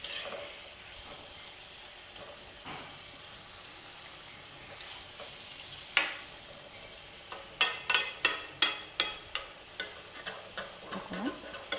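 Chicken curry stirred in a pan, with a soft steady sizzle and a run of sharp rhythmic scraping knocks from the spoon near the end, close and fairly quiet.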